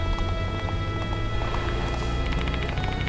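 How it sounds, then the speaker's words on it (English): Galloping horse hooves from a video game, a quick steady clip-clop rhythm running over a constant low engine-like hum, fairly soft and unbroken throughout. "It sounded like the clop of a horse's gallop."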